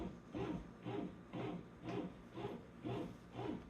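An Elite Gourmet bread machine kneads dough in its pan, giving a steady rhythmic churning that pulses about every half second, moderately loud and close, with no voices.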